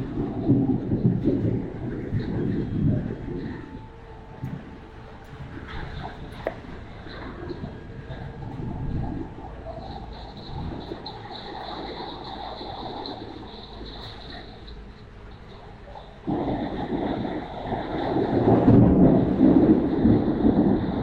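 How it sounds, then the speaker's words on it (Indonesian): Rain and a thunderstorm outside: a steady broadband wash of rain with deep rolling thunder rumbles, loudest at the start and again near the end, continuing without speech. "Oke, di luar sana hujan."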